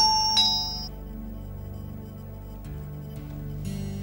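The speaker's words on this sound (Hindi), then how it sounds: "डोरबेल बज रही है।" A two-tone doorbell chime rings once, bright and clear, then fades into a quiet room with a low hum.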